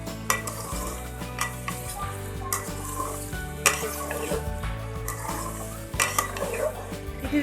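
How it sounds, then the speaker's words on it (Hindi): Mutton and peas frying in a pot for dahi mutton, giving a steady sizzle broken by repeated scrapes and clinks of a spoon against the pot. A low steady hum runs underneath, with a faint voice in the background. "हम 5 मिनट भूनेंगे।"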